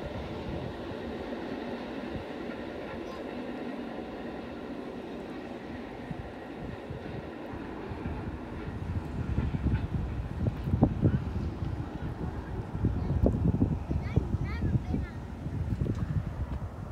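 Northbound freight train P052 passes through Orange City, Florida, its distant rumble and clatter of wagons growing louder and rougher toward the end while someone talks over it.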